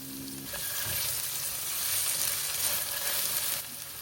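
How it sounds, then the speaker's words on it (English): Diced potatoes fry with curry leaves in a pan for sabudana khichdi, giving off a steady, close, continuous sizzle that holds level throughout with no talking. "let the potatoes cook for 5 to 8 minutes"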